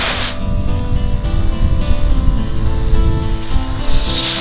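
Loud, continuous water from a garden hose drums and hisses against a Kodiak Canvas cabin tent, steady with slight surges and no talking.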